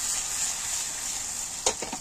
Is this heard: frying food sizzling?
yes